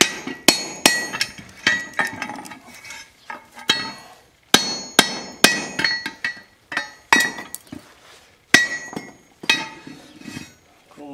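Blacksmith hammering a punch through steel over the hardy hole of an anvil, with sharp, loud ringing metallic strikes in uneven bursts and short pauses between them.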